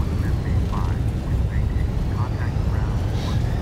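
Airbus A320 airliner engines in reverse thrust after a night landing, a steady broad roar holding level throughout, with faint tonal chirps and callout voices over it.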